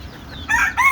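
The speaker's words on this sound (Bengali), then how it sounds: "এখন এই যে মুরগিগুলোকে খাবার দিলাম" Two short bursts of native (deshi) chickens clucking close by as they are fed, the second following the first after a brief pause.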